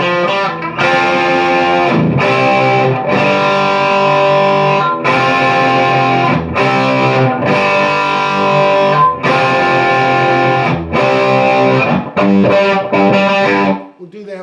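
Loud, heavily distorted electric guitar plays the riff and lick from the bridge of a song, with chords ringing in steady, repeated phrases and brief gaps between them for about fourteen seconds before stopping.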